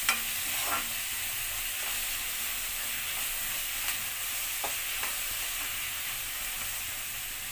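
Ingredients frying in a pan just before tomato goes in, a continuous soft hissing sizzle with a few faint scrapes of stirring, close but fairly quiet and without voices.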